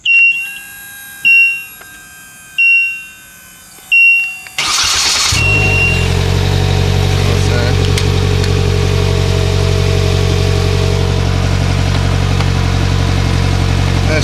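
A 2022 Polaris Slingshot gives four short warning chimes, then its push-button cold start cranks and the engine catches. A loud, steady idle rumbles close by after that, with no talk over it.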